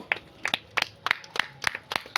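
Several people clap in a quick, uneven burst of sharp hand claps, close and fairly loud, during a fun watermelon-eating challenge, with no speech over them.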